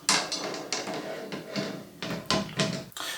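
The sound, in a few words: metal drum rim being placed back onto the drum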